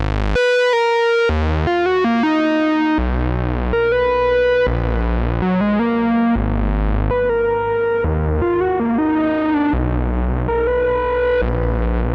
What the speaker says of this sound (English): a great option to have for a bass sound is a bit of drive or distortion